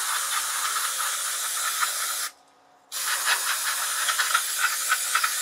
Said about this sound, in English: So I'm gonna use some electronics cleaner.